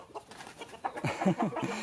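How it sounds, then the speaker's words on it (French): A caged rooster on a farm in Thailand gives a few short, close clucking and crowing calls in the second half, with faint farmyard background before them. "il y a un coq en cage et il y a un coq qui n'est pas en cage"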